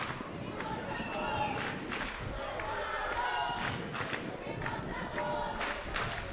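A football crowd at an under-19 cup match cheers for the Cantaro team, a steady roar of voices with scattered shouts and thumps heard from within the stands.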